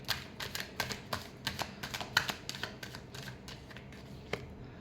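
Tarot cards being shuffled by hand in a quick run of crisp riffling snaps, close and fairly even in rhythm, trailing off at the end.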